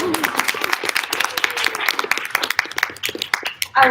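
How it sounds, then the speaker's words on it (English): Audience applause for a woman taking the stage to present, dense steady clapping from a crowd lasting throughout, with a voice starting up at the very end. "Let's give her a round of applause."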